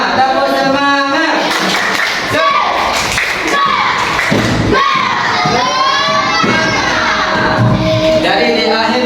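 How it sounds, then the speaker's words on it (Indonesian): A classroom of children performs a loud rhythmic spirit clap, their voices shouting and chanting in unison between bursts of clapping, energetic and close throughout. "Perhatikan semuanya, tepuk semangat."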